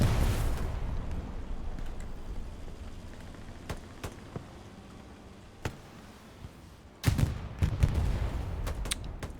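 Satchel charge and gunfire in the Hell Let Loose video game on the Omaha map, a loud blast fading into scattered gunshots and sharp cracks, then a cluster of heavy explosions near the end.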